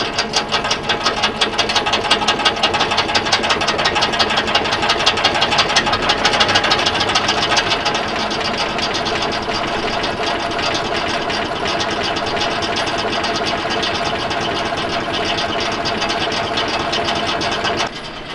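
A 1200kg forestry cutter spins up with a loud, dense mechanical whirr and rattling vibration that swells early, then settles into a steady, sustained drone before cutting off at the end.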